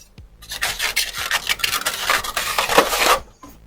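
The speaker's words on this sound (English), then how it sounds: "now my 2 bowls are going to get taped together" Tape is pulled and pressed down to join two bowls, a series of close, scratchy rubbing and tearing strokes in irregular bursts over a few seconds.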